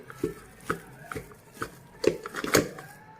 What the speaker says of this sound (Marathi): हे बघा असं तांब्याच्या साह्यानं गिलासाच्या साह्यानं असं बारीक करून घ्यायचं